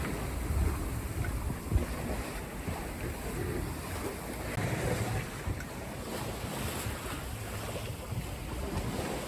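Sea swell washes around a Contessa 32 sailboat under way on open ocean, a steady rushing of water with wind buffeting the microphone and no talking.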